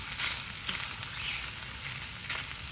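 Eggs fry in a pan with no added oil, giving a steady close sizzle that holds evenly throughout with a few brief crackles.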